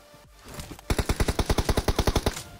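DP light machine gun firing in the BGMI mobile battle game, a rapid burst of about fifteen loud, evenly spaced shots after a brief quiet lead-in.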